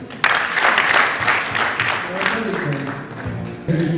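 Brief burst of audience clapping at a Rwandan comedy performance, dense applause rising suddenly then tapering, with voices talking over it and another loud burst near the end.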